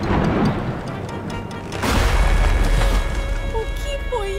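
A tree toppled by wind in a storm: a deep booming crash rises midway over rushing storm noise, followed by a few faint whistling tones near the end.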